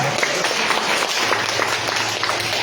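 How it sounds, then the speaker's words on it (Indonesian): A church congregation applauds during a sermon, a steady dense wash of clapping that holds at an even level throughout with no pauses. "beri tepuk tangan bagi Tuhan kita"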